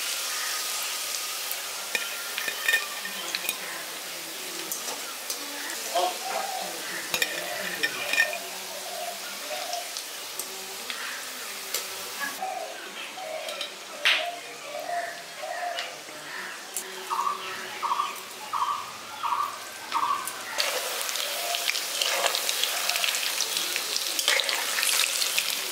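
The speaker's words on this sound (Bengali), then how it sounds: "এখানে আমি লালচে করে ভেজে নিচ্ছি চারিদিকটা উল্টে পাল্টে।" Vegetable pakoras deep fry in hot oil, village style, with a soft continuous sizzle as pieces are turned, broken by intermittent clinks and water-like splashes; fairly quiet overall, no talking.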